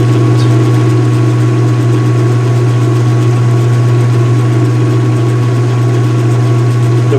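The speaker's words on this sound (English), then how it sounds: "resonant sounds that it makes now is very reminiscent of the nice big block V8 American engine" A deep, steady engine drone rumbles loudly and evenly throughout, a low idling throb with no voices.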